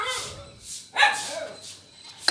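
Two puppies give a few short, high yips and barks. They are fairly faint and spaced apart in a quiet outdoor setting.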